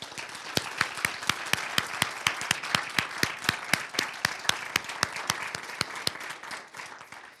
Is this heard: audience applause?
yes